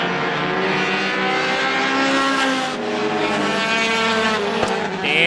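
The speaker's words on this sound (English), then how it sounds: "Dan Sweeney right to the rear bumper on Perkins down the back straightaway." Race cars at Hudson International Speedway during Roadrunner heats, engines droning loudly past in a steady pack with shifting pitch as they run down the back straightaway, no talking.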